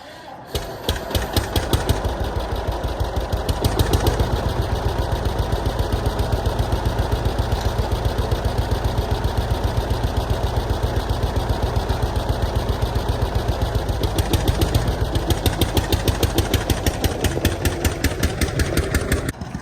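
An old John Deere 60 tractor engine idles close by with a steady, loud, evenly pulsing putter that holds unchanged throughout.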